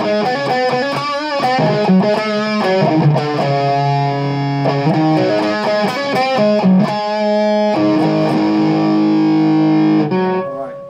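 Electric guitar played through a mega distortion pedal with gain near three o'clock and a Boss NS-2 noise suppressor engaged; loud, heavily saturated sustained chords and riffs that change pitch several times, then cut off cleanly at the end.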